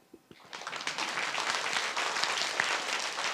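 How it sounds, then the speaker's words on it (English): Dense, sustained audience applause fills a conference hall at the close of the APrIGF and TWIGF 2024 meeting in Taipei, swelling quickly after a few scattered opening claps and holding steady throughout. "Big applause."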